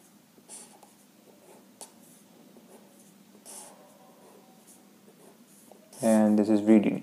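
A pen scratches across paper as a circuit diagram is sketched, faint intermittent strokes close by, followed at the end by a loud burst of speech.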